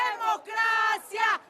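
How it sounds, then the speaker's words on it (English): Protesters at the March for Democracy in Mexico City raise loud, sustained chanting voices in a brief burst of crowd shouting, close and dense. "Massive crowds flooding the streets in Mexico City"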